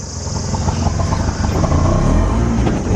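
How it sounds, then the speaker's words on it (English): A white tourist car passes close by on a narrow, bumpy mountain road near Dharamsala, its engine a steady, loud rumble with a slight rise in revs. "here comes a white tourist car"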